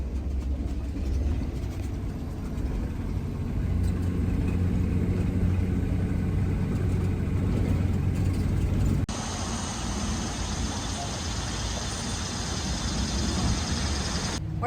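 A converted school bus (skoolie) drives along a road, giving a steady low engine rumble and road noise that continues throughout, with a brief shift in the background hiss partway through; no talking is heard.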